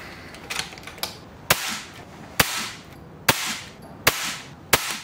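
Air rifle firing Zan .22 slugs: five sharp, loud shots spaced roughly a second apart, each a sudden crack with a short decay, over a low background hiss.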